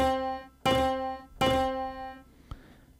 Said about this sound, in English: a mobile phone to go and be wedged into the strings